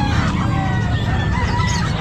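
Rooster crowing at a pet market, loud and close, with other roosters and fowl clucking in a busy background din.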